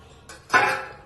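Hot water pours into fried onion paste for mutton korma, a short splashing gush that starts with a soft trickle and swells into a louder rush before tapering off.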